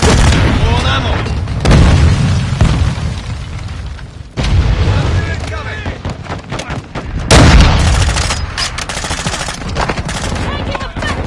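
Gunfire in the video game Call of Duty Modern Warfare 2, loud machine-gun bursts and sharp rifle shots mixed with heavy booms, nearby and relentless with short lulls, while voices call out over the shooting.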